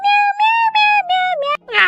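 A cat meows several times in quick succession, close and loud, with clear drawn-out tonal cries ending in a brief breathy burst.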